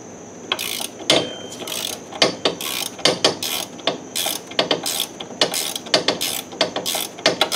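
A ratchet clicks in quick, uneven bursts while snugging a sway bar end link nut on a 2006 Honda Ridgeline, the close metallic pawl ticks repeating with brief pauses between strokes.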